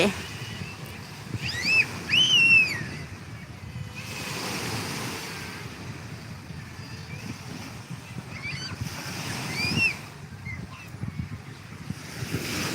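Steady waves wash on a shore at Sangchan Beach with a breezy hiss, while thin high birdlike cries break through now and then.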